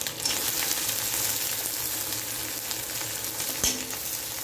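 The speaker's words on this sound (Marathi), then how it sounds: "आता मी याच्यामध्ये आलं लसणाची पेस्ट टाकते मला जेवढं लागेल तेवढंच टाकते मी छानसं हलवून घेणार आहे" Ginger-garlic paste and finely chopped tomatoes stir-fry in a pan for a quick eggplant curry. A continuous close sizzle runs throughout, with a spatula scrape and clank near the end.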